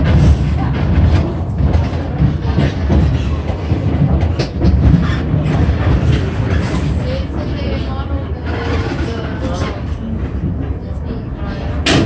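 A scenic railway train rolls along the tracks with continuous rumbling and clickety-clack from inside the coach, dense and fairly loud throughout, with faint voices mixed in.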